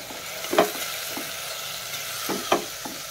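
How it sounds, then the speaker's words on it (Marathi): Soaked rice stirred and fried in a spiced tempering, a constant close sizzle broken by two sharper scraping stirs of a spoon against the pan and a few softer strokes. "हे व्यवस्थित सगळी परतून घ्यायचे मस्तपैकी"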